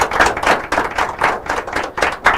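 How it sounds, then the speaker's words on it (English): Rhythmic group clapping from a quiz and debate competition audience, loud and near, with steady pulses of many hands striking together in a regular beat. "Okay, we can clap better now."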